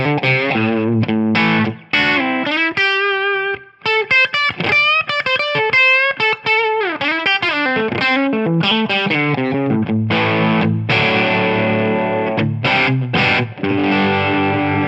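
An electric guitar runs through a Tonex tone model with a compressor, heavily distorted and playing a mix of ringing chords and single-note phrases with short pauses, alone with no talking.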